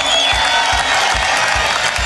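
Crowd applause and cheering at a surf contest's finals, loud and dense, with steady clapping and whoops close to the microphone.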